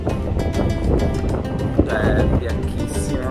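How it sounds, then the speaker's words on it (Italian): Strong wind gusts buffet the microphone on a white-sand beach at Diani Beach, Kenya, with a steady low roar and surf beneath, while someone talks over it throughout. "C'è molto vento"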